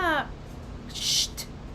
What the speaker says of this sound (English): They always meow so much right when they wake up.